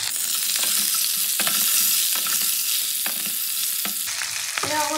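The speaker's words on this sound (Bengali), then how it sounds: "সবজির সঙ্গে আমি ফোড়নটাকে একটু কষিয়ে নেব" Tempered whole spices and previously fried vegetables sizzle loudly in hot oil while being stirred in a pan, a steady close frying hiss broken by repeated scraping stirs.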